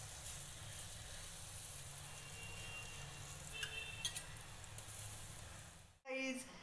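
A paneer paratha fries in butter on a hot griddle, a steady soft sizzle that runs until it cuts out near the end, then a brief clatter.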